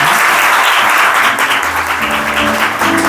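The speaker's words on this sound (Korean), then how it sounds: "박수 쳐주시기 바랍니다" Applause at a school graduation ceremony in a hall, a loud, dense, steady wash of many hands clapping, continuous and close with no pauses.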